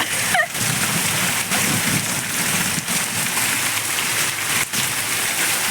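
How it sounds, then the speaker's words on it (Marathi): Hail and heavy rain pounding down at a village house doorway, a dense continuous patter and splatter close by, steady throughout. "गाराच गारा आहे बघा, दारामध्ये गारा."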